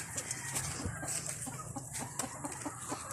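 Hens cluck repeatedly in short, choppy bursts, several birds close by, with a busy farmyard murmur underneath and no talking.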